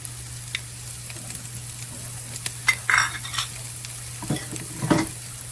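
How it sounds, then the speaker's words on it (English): Onion and garlic sizzling in a hot pot, a soft steady fry with occasional scrapes and clinks of a spoon stirring against the pot, fairly quiet and close. "I'm going to go ahead and drop my onion in. And I'm going to toss my garlic on in there with that."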